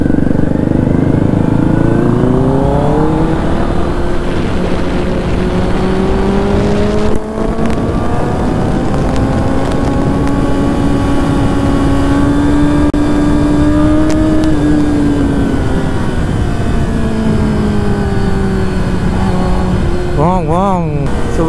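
A Kawasaki ZX10R motorcycle engine drones loud and close throughout a morning ride, its pitch sweeping up and down as the rider shifts and rolls the throttle, with a short rev burst near the end.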